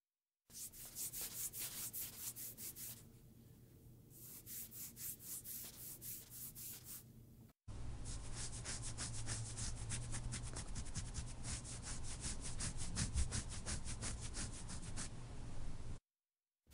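Soft, textured rubbing of hands for ASMR tickling, close and intimate, coming in two brushing bursts, a pause, then a longer steadier stretch of swishing friction with no talk.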